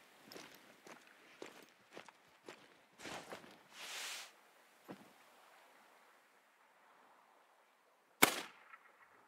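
A single sharp, loud rifle gunshot rings out in theHunter: Call of the Wild on Te Awaroa, following a stretch of soft footsteps along a riverbed, then fades into quiet.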